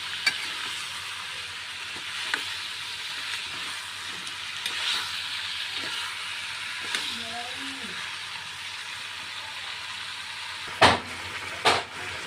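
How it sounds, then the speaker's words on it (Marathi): Kasifal bhaji, a pumpkin vegetable dish with spices, sizzling steadily in a pan as it is stirred, with a constant frying hiss and a couple of louder scrapes near the end. "ते चांगलं मिक्स करून घ्यायचं जे मसाले याच्यामध्ये टाकले ते सगळे एकजीव करायचं चांगल्या प्रकारे"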